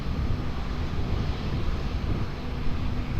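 An airliner takes off at Lisbon Airport as a broad, steady engine roar, distant but loud, with wind-like rumble throughout and no voices.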